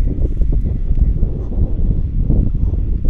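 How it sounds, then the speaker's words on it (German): Strong wind buffets an outdoor microphone, a steady low rumble with gusty surges throughout and no other clear sounds. "der Wind weht, hoffentlich stört das nicht und ihr könnt mich gut hören"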